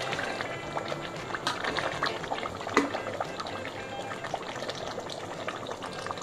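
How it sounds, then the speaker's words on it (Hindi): Shahi gosht mutton fries in oil in a pot on low-medium heat, giving a steady bubbling, crackling sizzle that is close and continuous, with no speech over it. "अभी हम इसे 5 मिनट और भून लेते हैं।"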